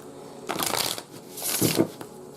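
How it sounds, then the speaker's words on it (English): Playing cards are shuffled by hand in two close, crisp riffling bursts about a second apart, with no talking. "So now I gotta just make sure it's really shuffled"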